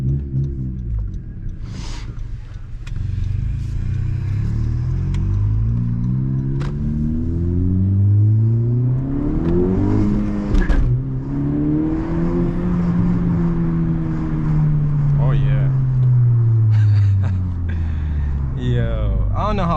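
From inside a Honda Civic Si, the turbocharged engine revs hard down a hill, its rising and falling pitch sweeping through gear pulls over road rumble while someone talks throughout.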